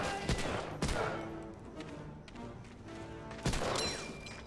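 Gunfire in Medal of Honor: Allied Assault's North African campaign, a few sharp separate shots ringing out over a rumbling battle backdrop.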